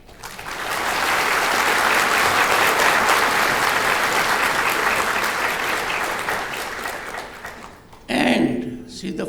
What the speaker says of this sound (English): I am sure we can applaud her.